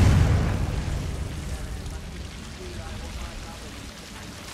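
A Confringo fire spell from Hogwarts Legacy bursts with a heavy boom at the start, then a long rumbling, crackling decay trails off, with a small pop at the very end.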